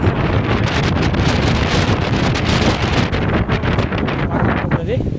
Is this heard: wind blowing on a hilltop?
yes